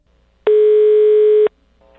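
A telephone tone during a prank phone call: one loud, steady electronic tone lasting about a second, starting and stopping abruptly against a quiet line, with faint voice-like sound trailing after.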